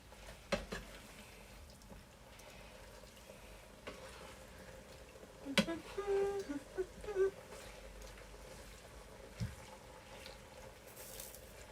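Pasta being mixed into a creamy salmon and spinach sauce in a pan, heard as soft, quiet sizzling with a short burst of spoon scraping and clinks midway, otherwise low and gentle.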